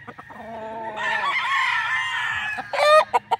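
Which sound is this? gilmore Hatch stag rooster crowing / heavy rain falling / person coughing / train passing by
gilmore Hatch stag rooster crowing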